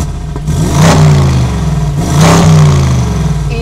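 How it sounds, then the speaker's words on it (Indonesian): A Mercedes-AMG G 63 Mansory revs twice with its exhaust in silent mode, each loud, close burst of engine roar rising and falling back to a rough idle. "Dan itu tadi masih knalpot yang silent aja kayak gini."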